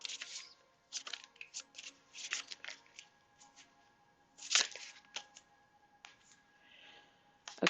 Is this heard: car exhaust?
no